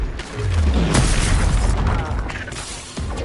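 A Confringo fire spell bursts in the Hogwarts Legacy video game, a loud booming blast with low rumble and crackling debris spread over a few seconds, followed by a second sharper hit near the end.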